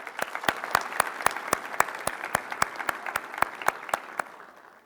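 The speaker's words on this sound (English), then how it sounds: "So I think that the family and friends deserve a round of applause as well." Short burst of scattered clapping from a small group at an Army enlistment oath ceremony, fairly close, with distinct individual claps that taper off toward the end.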